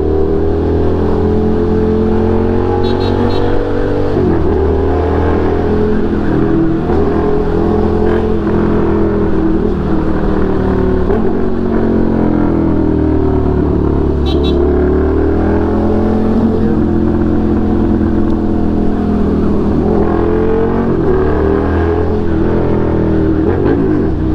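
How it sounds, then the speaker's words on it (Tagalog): Suzuki SV650 motorcycle on a night ride, its engine a loud, continuous close drone that rises and falls slightly with the throttle, with wind rush throughout. "Sarap magmotor. Namiss ko magmotor."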